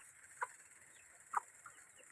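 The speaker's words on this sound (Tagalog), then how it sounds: "Lahi yata nito eh, darag chicken, wild." Two short, bright clucks from a darag chicken, a wild Philippine native breed, in a backyard coop, spaced about a second apart over a faint, steady background hiss.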